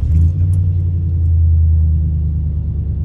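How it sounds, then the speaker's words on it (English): A truck engine runs steadily with a deep, loud, close rumble that holds level for a few seconds without revving, and no voices are heard. "Turn my truck on"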